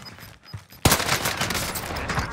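Gunfire in the Warzone video game on Rebirth Island, likely from a Welgun SMG: a sudden loud burst of rapid shots that keeps rattling on for over a second after a quieter lead-in.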